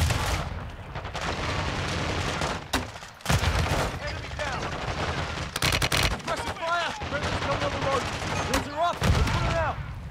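Gunfire and heavy booming blasts from a grenade launcher in the video game Call of Duty Modern Warfare 2, during the prison break mission, erupt in repeated loud bursts, with people talking and exclaiming over the combat.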